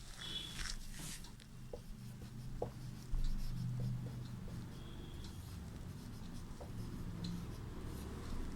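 Writing on a board during a Sanskrit class, with soft, close scratching and rubbing strokes that come and go in short irregular bursts over a quiet room hum.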